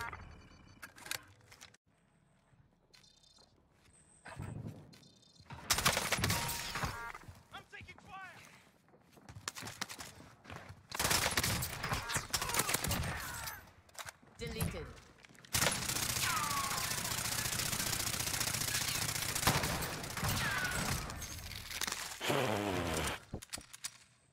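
Gunfire in Call of Duty Warzone on Rebirth Island, with bursts of shots and thuds coming in clusters between stretches of quieter game sound, while players talk and laugh over it.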